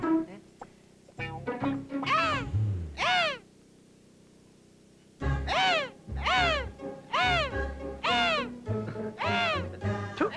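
A man in a comedy film scene imitates a crow with a voice, in a series of loud, nasal caws that rise and fall. They come in clusters with a pause between them, close and repeated many times.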